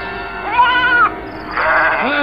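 Goats bleat in an audio drama, two drawn-out wavering cries with a brief pause between them, loud and close with no voices over them.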